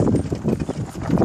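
A horse pulling a cart clip-clops with a steady run of close, heavy hoof beats over a rumbling background, and there is no talk over it.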